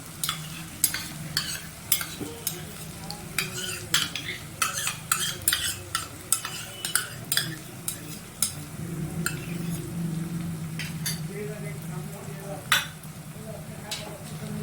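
Tel koi fish masala with yogurt stirred in a hot pan, a steady low sizzle under repeated sharp scrapes and clinks of a spoon against the pan, bunched strokes at first, then a quieter stretch of frying.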